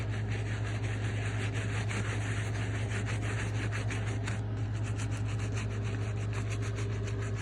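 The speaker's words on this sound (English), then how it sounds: "And then now I'm gonna scrub it one more time." Steady rhythmic brushing and rubbing as the yellowed rubber soles of Jordan Retro 5 sneakers are scrubbed, a continuous close scratchy texture with repeated strokes and no talk.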